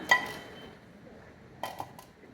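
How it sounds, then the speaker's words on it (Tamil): A pan set down on an unlit stove while cooking pathiri: a faint metallic clink at the start, followed a moment later by two soft clattering knocks in a quiet kitchen. "ஒரு பேன் அடுப்பில் வச்சுடுங்க."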